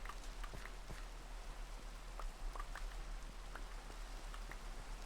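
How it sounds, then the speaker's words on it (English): Minecraft rain patters softly and steadily in the background, a faint, even hiss with scattered drop ticks and no voices. "the rain sounds better on your machine than mine"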